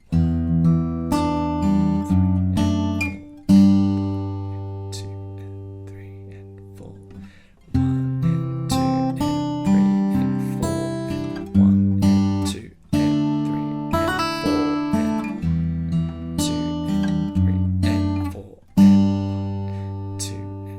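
An acoustic guitar plays the plucked, melodic intro riff of a song, without a capo, with strummed chords, repeating phrases in a steady rhythm, close and clear with no voices.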